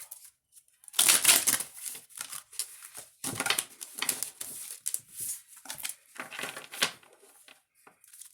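Crisp, papery riffling of tarot cards being shuffled in several quick bursts with short pauses between, close and fairly loud, with no talking.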